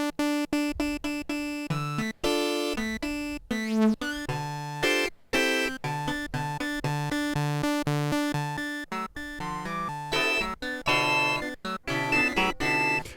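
An Arturia MiniFreak synthesizer plays through its comb filter oscillator: a busy run of short, resonant, metallic-ringing notes in fast irregular rhythm, loud and close, with no talking.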